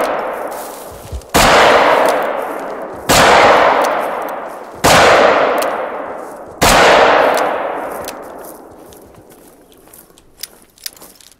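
A .44 pistol fires at a water buffalo in theHunter: Call of the Wild: four loud, sharp shots spaced about two seconds apart, each with a long fading echo, then a few faint clicks.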